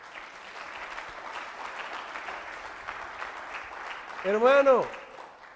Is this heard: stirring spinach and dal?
no